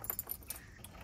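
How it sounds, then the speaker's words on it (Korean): Keys jingle faintly in a few quick metallic clinks as a garden door at an old Italian house is about to be unlocked, in quiet surroundings. "열쇠가 필요해요."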